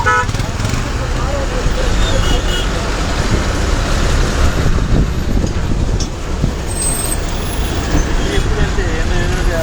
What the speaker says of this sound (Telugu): ట్రాఫిక్ స్లోగా వెళ్తుంది.